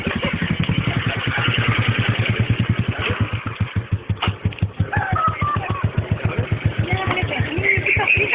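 A Royal Enfield Bullet motorcycle being ridden slowly, its single-cylinder engine thumping in a steady, close pulse throughout, with a brief dip mid-way before the beat resumes.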